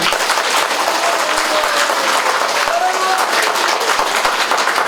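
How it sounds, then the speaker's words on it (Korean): A lecture hall audience at a talk by Seoul's mayor breaks into loud, continuous applause, a dense, steady roar of many hands clapping close by for the whole stretch, with a few voices mixed into the din. "동의하시면 박수"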